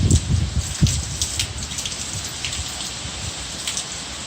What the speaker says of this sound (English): So far it's only rain, and those gusts of winds.